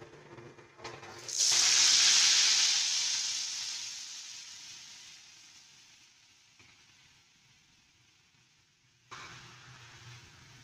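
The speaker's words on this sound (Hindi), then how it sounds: "ये आपके सामने तड़का लगा" A sudden loud sizzle as spices and mint hit hot oil for a tarka on daal mash, hissing strongly and then slowly fading, with a clatter near the end.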